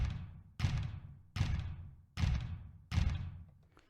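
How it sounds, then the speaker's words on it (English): Five heavy, evenly spaced booming thuds made by knocking on a front door serve as a walking robot's footsteps, each hit decaying before the next lands. "So this is really the sound of the robot that's walking towards the screen."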